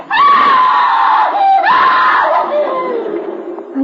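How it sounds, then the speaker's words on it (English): A woman's long, piercing scream in an old-time radio mystery drama. It is loud and sustained, wavers in pitch with a brief break, then trails off, with no talk over it. "I knew it was my sister who had screamed."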